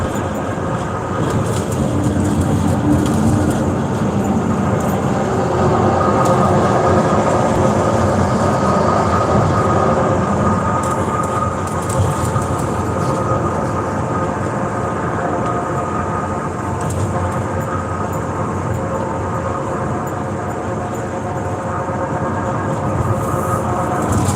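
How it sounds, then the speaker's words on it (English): A loud, constant low rumble and roar of road noise from the rear of a moving van, droning steadily with no talking. "the road suddenly got really loud in the ass end of this vehicle"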